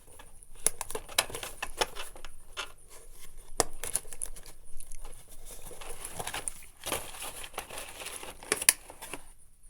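A plastic package of zip ties is opened up close, with irregular bursts of crinkling and crackling plastic and a few sharper snaps over about ten seconds.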